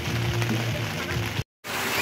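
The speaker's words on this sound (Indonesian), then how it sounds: "Jadi ini campingnya dilanda hujan deras ini." Heavy rain pours down at a campsite by Lake Lut Tawar, a dense, steady hiss of water with a low hum underneath, briefly cut to silence before the downpour resumes.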